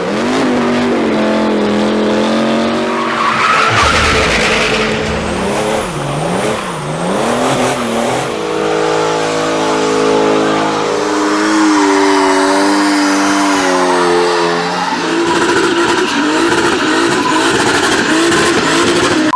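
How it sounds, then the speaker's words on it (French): Nissan G37 doing burnouts in a parking lot, its engine revving hard and rising and falling in pitch while the tires skid and squeal, loud and close throughout with no talking. "d'habitude, on fait des burns et des demi-tours sur le parking"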